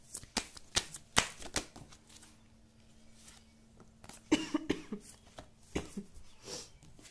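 Tarot cards shuffled and drawn for a Hindi reading, giving a run of crisp riffling flutters and soft snaps up close, with quieter gaps and a faint steady hum underneath.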